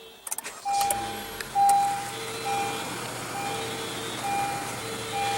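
A 2015 Honda CR-V's 2.4-liter four-cylinder engine cranks from push-button start, fires up with a short roar, then settles into a quiet steady idle while electronic chimes beep intermittently.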